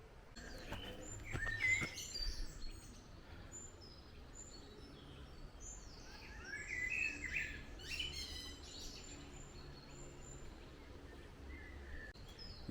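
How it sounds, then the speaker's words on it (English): Wild birds sing and chirp throughout an evening in Haden Hill Park, several overlapping calls at moderate distance with brighter bursts of song, set against a soft outdoor hush with no talking. "There is tons of bird life."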